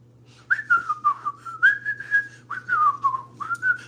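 A person whistles a short, lilting tune alone, sliding notes in two or three quick phrases with brief pauses, clear and close over a faint steady hum.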